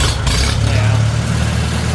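A Farmall A tractor engine, started with a button starter, runs at a loud, close, steady low idle throughout.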